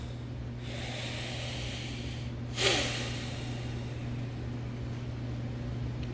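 A single deep breath taken before meditation, one sharp close inhalation mid-clip against a steady background hum.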